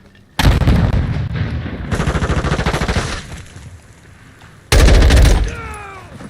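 A stun grenade detonates in Call of Duty MWII, heard as loud blasts of gunfire-like noise with a ringing tail, separated by quieter gaps, and a final burst followed by descending tonal whines.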